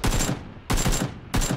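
Three loud rapid bursts of automatic gunfire in PUBG, each a dense rattling volley about half a second long, close and harsh with short gaps between.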